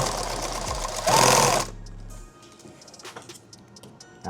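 Sewing machine stitching a large bag: a loud, fast, steady mechanical whir for about two seconds, then it stops, leaving quiet handling sounds.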